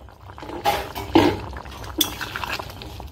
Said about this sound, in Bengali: 15 মিনিট পর ঢাকনা খুলছি।